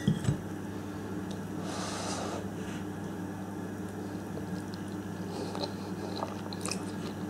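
Close-up biting and chewing of a homemade dish with sauce, soft wet crunches and mouth sounds over a steady low background hum, with no talking.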